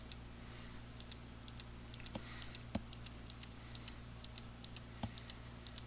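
Sharp, light computer mouse clicks from left-clicking around a stockpile outline in LP360 surveying software, tapping out in an uneven but steady series, close and fairly quiet over a faint hum.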